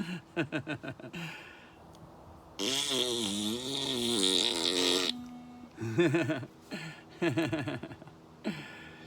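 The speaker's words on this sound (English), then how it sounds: "And there was a fart sound coming from behind the fence" A fart-like squeezed-air blast from behind a fence, a long buzzing rasp of about two and a half seconds set between shorter sputtering bursts, loud and close with no talk.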